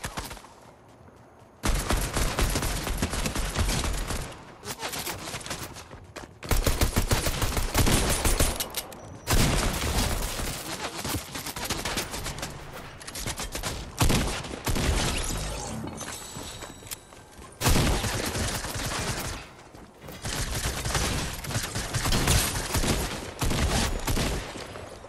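Sustained video game gunfire in a multiplayer lobby, with dense bursts of shots and rapid automatic fire running in loud blocks and brief gaps, alone with no voices.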